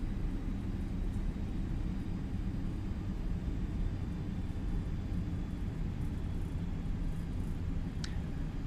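Delta Airlines Boeing 767 taxiing in the X-Plane 12 flight simulator, a steady low engine rumble and broadband hum running continuously throughout with no talk.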